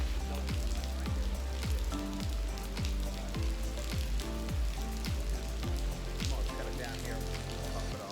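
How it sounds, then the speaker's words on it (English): Light rain patters steadily outdoors during tree removal work near a truck, a continuous close hiss of drops on surfaces with some voices in the background. "It's a little bit rainy."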